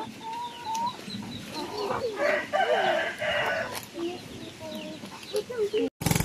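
Rhode Island Red chickens cluck and crow in a backyard flock, a rooster's call rising among busy, overlapping clucks, close and lively with other farm noise beneath.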